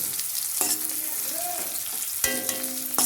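Ash gourd and small morla fish fry in a pan in a village kitchen, with a steady nearby sizzle, a few sharp metallic clinks and ringing tones from the utensil, and no talking.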